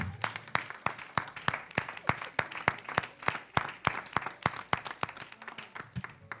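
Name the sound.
church congregation applauding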